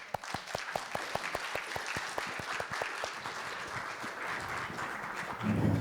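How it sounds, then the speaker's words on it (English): An audience at a panel session on real estate and urban crisis management claps for the panelists, sharp individual claps at first thickening into steady applause that swells near the end. "let's give applause"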